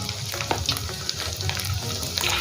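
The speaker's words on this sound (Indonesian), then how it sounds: "Nah, jadi dari adonan ini langsung digoreng, saya bulat pakai sendok kecil-kecil." Spoonfuls of pempek dough, fish-based and shaped into small balls, fry in hot oil with a dense, steady crackling sizzle, close and fairly loud, with brief sharper pops throughout.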